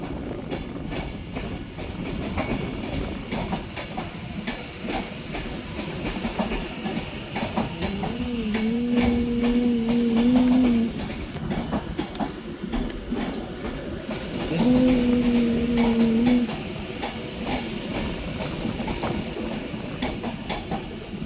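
An Avanti West Coast train running on the West Coast Main Line at Manchester Piccadilly station, departing towards Stockport: a steady rail rumble with clickety-clack from the wheels and two brief, sustained horn-like tones, with no talk.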